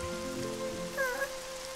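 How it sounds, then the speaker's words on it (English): Rain falling in the Tayo the Little Bus cartoon, a soft steady patter heard briefly and alone, with a faint tonal sound overlapping it partway through. "But it's raining."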